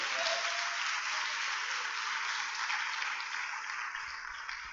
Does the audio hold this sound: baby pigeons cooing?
no